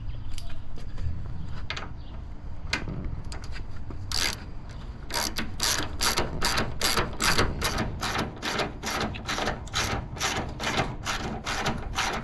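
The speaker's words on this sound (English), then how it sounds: "using the same bolt we'll tighten this guy back up." A ratchet tightens a bolt on a Chevrolet Silverado tailgate, a close run of quick, evenly spaced metallic clicks that grows steadier partway through, with no talk over it.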